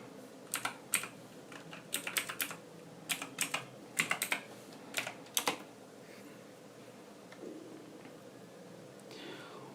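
Short bursts of typing on a computer keyboard while coding in PHP, clusters of crisp close key taps separated by pauses, with a soft murmur near the end.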